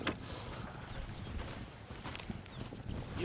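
Horse hooves clip-clop steadily in the Western video game Red Dead Redemption alongside a wagon, a continuous close rhythm of hoofbeats over a busy ambient bed.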